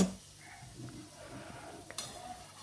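Potato and cabbage curry being stirred in a pot, soft scraping and light clinks of a utensil against metal, quiet and close with a sharper knock near the end.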